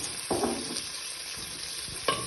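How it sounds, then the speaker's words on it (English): Spices and a pinch of cumin are stirred in a hot frying pan for prawn jambalaya: a steady soft sizzle with a few scraping utensil strokes near the start and end, close up and without speech. "Then you'll give that a good stir to bring out all the flavour."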